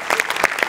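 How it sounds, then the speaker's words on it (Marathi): Audience applause for the writer of a Marathi comedy skit, a brief burst of clapping with sharp, uneven hand claps. "याच्यात तुझ्या लेखकासाठी जोरदार टाळ्या एकदा."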